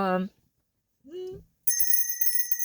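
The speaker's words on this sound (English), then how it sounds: "don't forget the notification bell" A bright notification bell chime rings out near the end, sharp and ringing like a bicycle bell, following two short bursts of voice.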